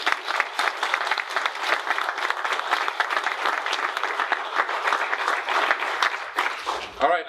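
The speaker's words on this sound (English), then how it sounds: "they deserve a big round of applause" An audience at a Gumbo Friday breast cancer awareness event gives sustained applause, with dense, steady clapping throughout that ends abruptly near the close.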